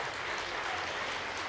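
An audience at a charity cabaret applauds a singer about to appear on stage, steady, fairly faint clapping from a crowd throughout.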